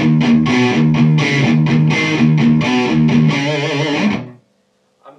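Electric guitar played through a Suhr amp on its unboosted second channel with no pedals, dry and crunchy rock chords strummed loudly in a rhythmic pattern, then cut off sharply into near silence.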